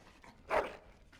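A dog in the Dragon Age Origins video game gives a single short bark or yip, close and moderately loud, brief against a quiet game background.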